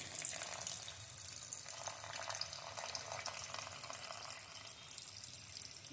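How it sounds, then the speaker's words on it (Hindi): Milk is poured into carrot halwa cooking in a pan, giving a faint, continuous liquid splashing and soft sizzle at low volume, steady throughout with no talking. "तो मैं दूध भी डाल देती हूँ।"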